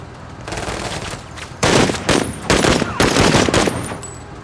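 Bursts of automatic gunfire in a video game, loud and close, with rapid rattling volleys in several clustered bursts that grow heavier partway through.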